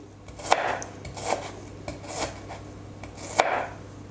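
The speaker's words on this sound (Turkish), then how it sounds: "Ve minik minik küpler halinde doğruyorum" Knife chopping an onion into small cubes on a board for Antakya kaytaz börek: a handful of distinct knife strikes, close and crisp, spaced irregularly over a low steady background hum.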